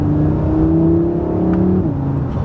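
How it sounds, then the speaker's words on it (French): An Audi RS3's five-cylinder engine revs with a steady, throaty drone that rises in pitch, then shifts down as the revs change, heard from inside or close by. "la sonorité de ce 5 cylindres, c'est vraiment quelque chose de très agréable"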